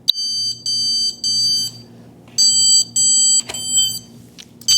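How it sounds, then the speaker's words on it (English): A shrill electronic alarm on emergency lighting, triggered by a power outage, beeps in long repeated bursts, loud and close, with short gaps between them over a low steady hum. "Light comes on and an alarm goes off."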